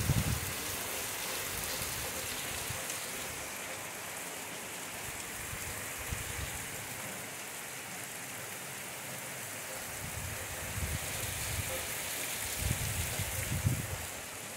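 Steady rain pours down in a rural setting, a dense, continuous hiss of drops striking surfaces at close range, with a few louder low thumps and splashes toward the end and no voices.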